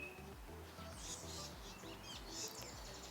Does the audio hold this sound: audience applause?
no